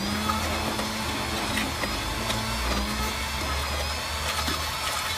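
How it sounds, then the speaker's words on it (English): An immersion blender purees pistachio cream in a kitchen, leaving some chunks of nut; a steady, dense whirring drone holds for the whole stretch, loud and continuous with no talking over it. "we're going to use an immersion blender here, and we're just going to puree it up"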